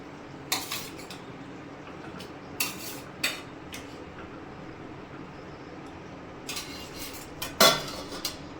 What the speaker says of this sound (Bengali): এখন আমি এর মধ্যে দিয়ে দেব ভেজে রাখা মাছের ডিমগুলো।